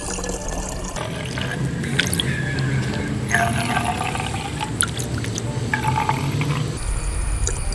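Homemade fungicide solution trickling and splashing as it is poured into a small hand pump sprayer, close up, with dripping and sloshing liquid throughout and faint background noise.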